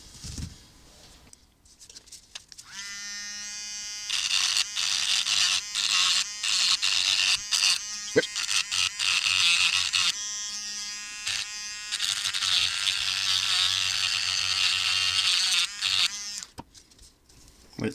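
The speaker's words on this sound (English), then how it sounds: "So, Dremel time then." A Dremel rotary tool grinds on a small metal part for an ON30 model train wheel and gear replacement, a high buzzing whine that starts, stops and restarts in several close bursts.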